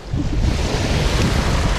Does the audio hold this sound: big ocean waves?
yes